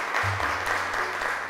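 A studio audience on a children's show claps steadily in a brief burst of dense applause, with a low hum running underneath.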